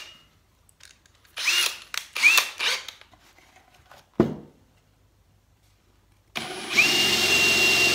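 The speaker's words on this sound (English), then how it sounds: "Let me see if I can find my drill. I'm gonna use a 3/8 inch bit." A power drill bores a 3/8 inch hole in a Boxter guitar kit box, heard as short whirring bursts followed by a sustained, steady drilling run near the end, close and fairly loud.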